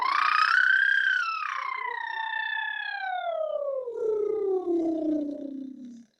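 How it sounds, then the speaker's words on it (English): A singer performs a siren on lip trills, a buzzing, fluttering voice that glides smoothly from high pitch down to low over several seconds, alone and fairly soft. "can I hear one of your guys' sirens on lip trills?"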